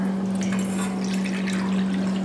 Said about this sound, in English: I'm going to bring it to the other side of the kitchen to rinse it thoroughly